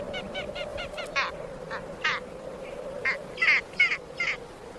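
Great skuas at a breeding colony in a desolate Icelandic spot give harsh, rapid, repeated calls in short bursts, fairly near, over a steady low background.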